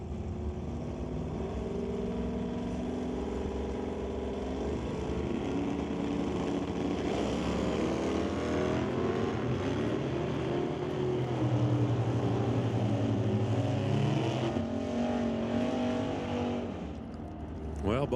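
Drag race cars, a Firebird and a bright red Camaro, roar off the starting line at an NHRA event, a loud sustained engine drone rising and sweeping past, with announcer-like talk partly over it.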